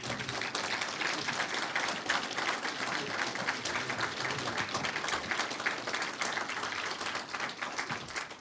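Sustained opening applause from an audience at a political talk, dense steady clapping filling the whole stretch at an even loudness.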